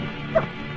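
A single short dog bark or yip rises briefly over a steady background hum, close and moderately loud.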